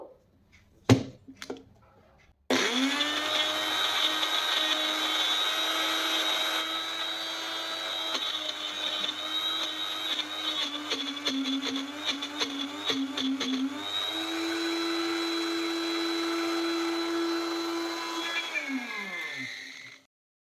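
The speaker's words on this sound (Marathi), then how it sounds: "आता मिक्सर आपण चालू करू." A mixer grinder whirs loudly and steadily for about seventeen seconds, blending a masala paste with Kashmiri chili powder for dhaba-style paneer butter masala, its pitch shifting once mid-run before it winds down; a few brief knocks come before it starts.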